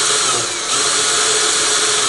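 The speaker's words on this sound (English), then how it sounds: "make sure when you drill through that you're not getting anywhere near that plastic." A power drill whines steadily at high speed, loud and close, with a brief dip in pitch as it bites through the body of a zero-turn mower.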